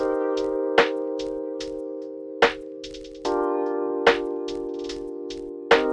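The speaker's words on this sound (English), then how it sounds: "I just combined that snare with this one right here" Sharp snare hits from two layered snare samples land every second or so over a sustained harmonic tone, punctuated by light percussive ticks in a steady lofi groove.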